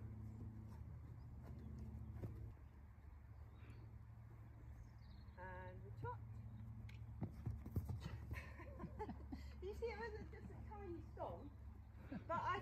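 A horse trots on the lunge during ground training, its soft rhythmic hoofbeats steady in the background while a person talks over them at length.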